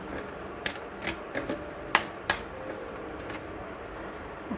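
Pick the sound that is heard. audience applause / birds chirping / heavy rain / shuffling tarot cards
shuffling tarot cards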